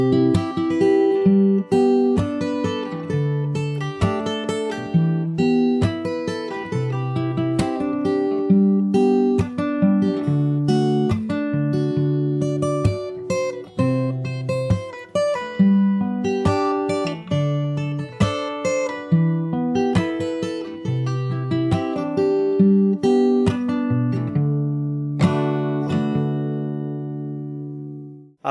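Solo fingerstyle acoustic guitar playing the second chorus of a song, with plucked bass notes and melody lines ringing steadily throughout, close and clear, and a final chord fading out at the end with no talk.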